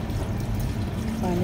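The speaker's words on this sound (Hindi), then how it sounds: "अब हम इसमें पानी डाल देंगे, इस तरह" Water poured from a container onto a freshly planted kalanchoe cutting in a pot, giving a steady close trickle and splash that runs the whole moment, with a brief rise in flow near the end.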